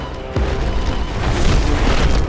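A building collapses in an animated film: a sudden heavy boom followed by a sustained rumbling, crumbling roar, loud and close.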